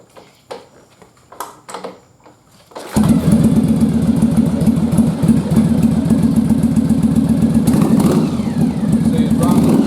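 A Yamaha Virago motorcycle engine catches after a few faint kicks and clunks, then runs loudly up close with a throbbing idle that rises as the throttle opens, while someone talks over it.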